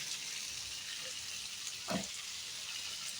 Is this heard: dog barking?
no